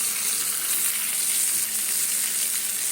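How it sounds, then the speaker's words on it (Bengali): Mung dal puris deep-frying in hot oil give off a steady, dense sizzle that holds evenly at close range, with no pauses and no voices. "চলো এইভাবে আমি সবগুলো ভেজে নিই"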